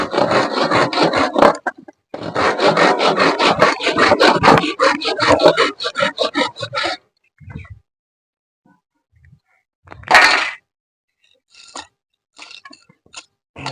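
A carpenter sawing wood by hand, with rapid rhythmic back-and-forth rasping strokes for about seven seconds, then quieter scattered knocks and scrapes with pauses; loud and close, no talk.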